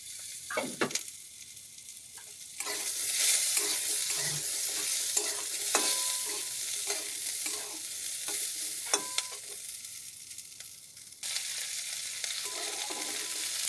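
Beans and capsicum fry in a pan, a continuous sizzle broken by repeated scraping stirs of a spatula, louder in the middle and easing toward the end, with no talking.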